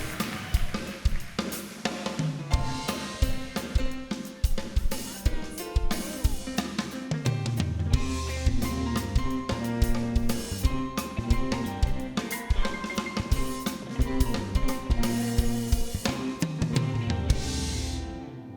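A live jazz quartet led by a percussionist on drums plays at a Miss Virginia Volunteer 2023 pageant finals show, with steady drum hits under dense, loud harmonic instrumental music throughout.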